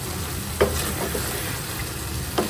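Hilsa fish frying in a hot pan with a steady close sizzle, with a couple of brief utensil clicks against the pan and no talking.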